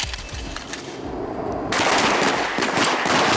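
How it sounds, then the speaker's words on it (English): Shotguns fire during a police firearms qualification round, giving several sharp, loud reports in quick succession, with a denser burst of blasts in the second half. "This round, it's shotguns, a weapon they're not used to using."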